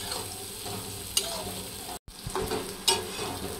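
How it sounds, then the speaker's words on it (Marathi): Carrots are stirred and fried in oil over a full flame for a masala sevai breakfast, with a soft steady sizzle broken by sharp spoon clicks against the pan and a brief cut-out partway through. "गाजर चांगला तेलामध्ये परतून घेऊ फुल गॅसवर"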